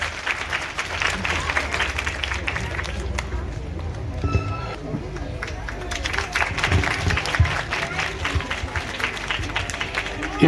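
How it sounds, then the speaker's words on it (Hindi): Applause from an audience at an annual school function of an educational institute in Baramulla, a dense crackle of many hands clapping steadily throughout, with a brief thinning partway and faint voices mixed in. "जोरदार तालियां एक बार।"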